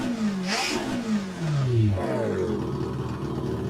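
A truck engine in American Truck Simulator, Texas DLC, revs up and falls back in pitch with a steady droning roar, loud and close, then settles into a rougher idle.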